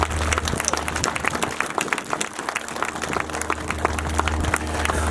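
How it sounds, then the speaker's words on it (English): At a Hmong community memorial event in Colorado, a large audience gives the speakers a sustained round of applause, dense and continuous clapping over a low steady hum. "Can we give one more round of applause to our speakers?"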